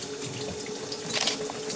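Water runs steadily in a shower, a continuous hissing spray heard close and alone at moderate loudness.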